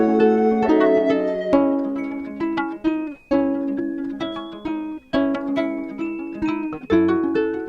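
A detuned synth chord sample built in FL Studio, exported and pitched down 700 cents, plays a slower, darker version of the chord progression, wobbly and sustained with repeated phrases, alone and clearly audible.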